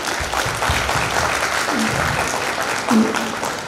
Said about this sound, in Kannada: ಈ ಒಂದು ಮುಗ್ಧತೆಗೆ ಒಂದು ಚಪ್ಪಾಳೆ ಬರಬೇಕು ಅಂತ ನನ್ನ ಆಸೆ